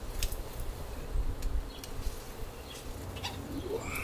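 Honey bees buzzing around an open beehive, a steady low drone of many insects with a few brief higher whines as single bees fly close past, continuous throughout.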